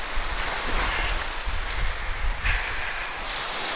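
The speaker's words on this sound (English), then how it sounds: "Well, the sea is beautiful and clear." Sea waves at Oxwich Bay on the Gower coast wash steadily onto the shore, a continuous broad surf roar with gentle swells and some wind buffeting, no voices.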